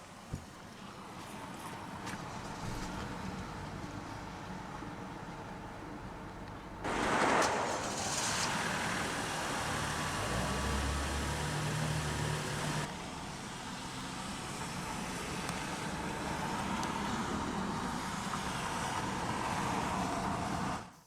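A 2015 Hyundai Genesis 3.8 AWD starts with a sudden rise in engine noise, then settles into a steady, smooth idle heard from close by with a faint background hum.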